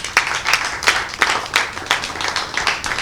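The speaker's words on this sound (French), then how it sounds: "Je vous demande très sincèrement d'applaudir toute l'équipe de l'ONG Bouge." An audience at an NGO Bouge business event claps for the team, distinct sharp hand claps in a loose, fairly quick rhythm, close and clear with nothing else over them.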